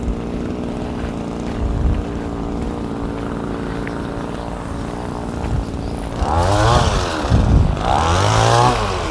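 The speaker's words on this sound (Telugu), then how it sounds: "ఇక్కడ ఉన్న చెట్ల కటింగ్ చేస్తున్నాడండి." Tree branches being trimmed in a park: a motor drones steadily under outdoor background noise, then revs up louder and rougher in two surges near the end.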